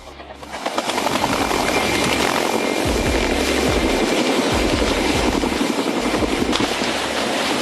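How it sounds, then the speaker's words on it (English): A helicopter lifting off roars steadily and loudly, its rotor thumping beneath a broad engine whine that swells in the first second, then holds. "The helicopter lifted off smoothly"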